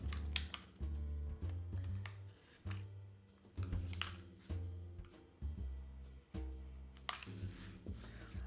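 Scissors make a series of crisp snips through a paper tab while a box divider is being made. The cuts come close and quiet in short repeated bursts, with soft background music and no talking.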